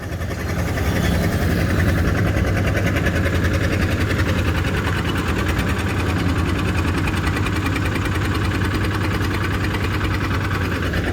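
An 11 hp engine on a Thai i-taen farm vehicle idles close by with a steady, rhythmic chugging knock that holds at an even level for about eleven seconds, with no one speaking.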